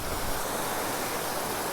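Water pours over a waterfall in the Vathalmalai hills during rainy weather, making a constant, loud, even rush of white noise with no pauses or voices.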